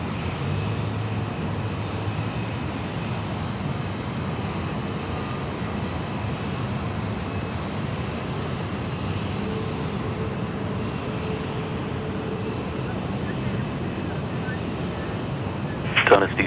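Steady broadband roar of jet aircraft engines at Sydney Airport during a busy rush, continuous and fairly distant, with a brief sharper burst at the very end; radio chatter runs underneath.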